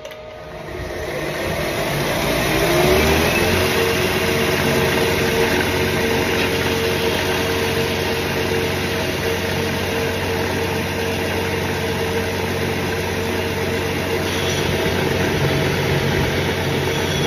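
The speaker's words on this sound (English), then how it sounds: "Ultra fine conditioning belt with some rouge in it to help prepare the surface for polishing." A belt grinder runs with an ultra fine conditioning belt loaded with rouge, polishing an axe head, giving a steady loud motor whir and hum throughout with a faint grinding hiss, no voices.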